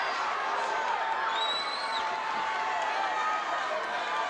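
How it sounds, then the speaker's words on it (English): A big wrestling crowd of thousands roars steadily inside Reunion Arena during Kerry Von Erich vs Brian Adias, a dense, continuous wash of cheering heard from within the hall. "Kerry Von Erich has this big crowd making noise"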